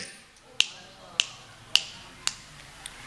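Five sharp finger snaps spaced about half a second apart, crisp and close, the last one softer, with no talk in between.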